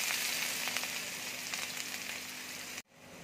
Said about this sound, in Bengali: কড়াইয়ে দেখো তেল দিয়েছি, তেল গরম হয়ে গেছে। এবার আমি পেঁয়াজ কুচিটা দিয়ে দিচ্ছি।